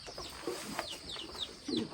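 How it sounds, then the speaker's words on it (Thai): Chickens raised at home cluck softly nearby, a few scattered short calls over a quiet outdoor background, with no talking. "นี่ไก่ที่เขาเลี้ยงไว้"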